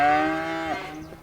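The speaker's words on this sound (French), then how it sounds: "Alors, les vaches vont bien, hein, elles ont bien grandi pendant l'hiver." A single drawn-out cow moo, loud and close, sliding down in pitch and fading near the end, from a farm herd that has grown over the winter.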